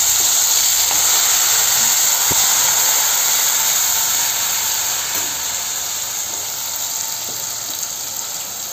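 Masala spice tipped into hot oil with cloves and black pepper for a spicy chicken masala, giving a steady, loud hiss of sizzling that holds throughout and eases slightly toward the end, with a few faint clicks.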